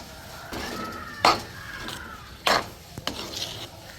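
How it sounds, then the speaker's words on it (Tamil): Thick black urad dal kali being stirred in a pot, with a few sharp scrapes and knocks of a spoon against the vessel over a quiet background. "இப்போ 10 நிமிஷமாக அப்படியே கிண்டி கொண்டு இருக்கோம்."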